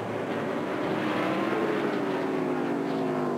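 NASCAR stock cars race at Martinsville Speedway, their engines a continuous roaring drone with pitch sweeping as cars pass, heard at moderate distance without talk.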